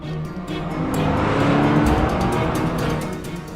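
A motor vehicle, an auto rickshaw in pursuit of another car, drives on a road with a steady, fairly loud engine that rises slightly in the middle of the passage and runs alone without talk.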